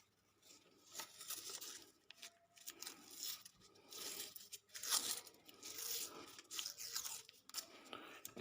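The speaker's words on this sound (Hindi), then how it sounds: "यहाँ से ऊपर हम टेप लगा देते हैं इसकी मजबूती के लिए" Adhesive tape pulled off a roll and pressed over a hand-wound transformer coil for a fish shocker, giving repeated close tearing and crinkling bursts in an irregular rhythm.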